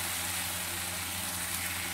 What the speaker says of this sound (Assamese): এতিয়া মই ইয়াতে দিম কাটি লোৱা বিলাহী দুটা, আৰু এই দুটাও দি মই ধুনীয়া ভালদৰে ভাজি ল'ম।